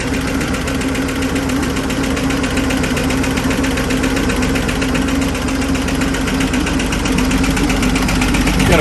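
A carbureted G-body car engine idles close by, a loud, steady, lumpy rumble with a rhythmic pulse that holds throughout.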